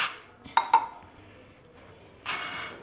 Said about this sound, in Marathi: तर हे एका भांड्यामध्ये आपण टाकून घेऊया.